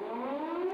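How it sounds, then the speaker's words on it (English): A siren tone played from the Zedge app on a phone sounds as a steady, slowly rising wail, like a civil defense siren, filling a brief stretch without speech. "Or you could just use the Zedge app on your phone and get a siren like this."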